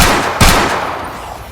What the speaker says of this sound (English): He fires off 2 gunshots.